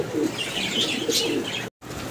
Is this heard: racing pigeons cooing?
yes